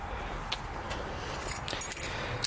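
Car keys jangle in a few brief metallic bursts, close by and fairly quiet, against a steady low background rumble with no talking.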